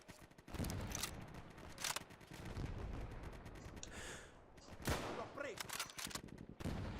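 Gunfire in the video game Easy Red 2 on a custom Southern France map: several sharp rifle and gun cracks spaced irregularly over a busy battle background, with occasional faint breathy vocal sounds.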